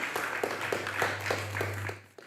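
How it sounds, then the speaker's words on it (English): Applause at a roundtable panel event, a steady wash of many hands clapping with a low hum underneath, fading out near the end. "Round of applause."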